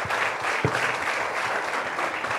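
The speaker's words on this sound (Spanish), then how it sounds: "Démosle un fuerte aplauso a nuestro Señor." Steady applause from a church congregation, a dense wash of clapping that holds at an even level throughout with no voices above it.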